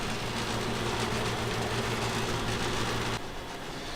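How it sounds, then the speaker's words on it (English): Old square-type hotel air conditioner running noisily, a loud, constant broadband hum with a low droning tone that drops slightly near the end, with no talking over it. "it's because it's an old aircon."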